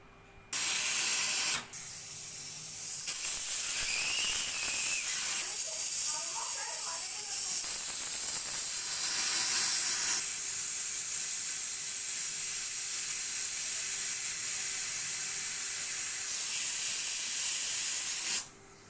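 A pressure cooker cooking sprouted dal vents steam in a loud continuous hiss lasting many seconds, with a brief break near the start and an abrupt stop at the end.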